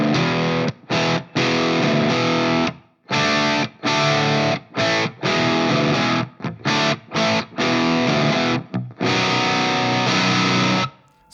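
An Ibanez AS7328 baritone guitar played through heavy distortion in a classic rock style, with loud chugging chord bursts separated by short, abrupt stops in a choppy, riff-like rhythm.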